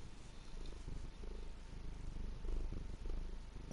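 A cat purrs in a steady, rumbling rhythm of soft pulses, close and continuous, with no voices over it.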